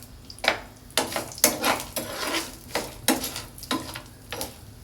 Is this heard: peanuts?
yes